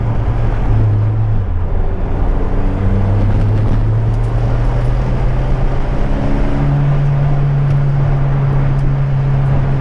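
A restomod Acura Integra GSR drives at speed, its engine droning loudly and steadily with a rising, shifting tone and constant road roar.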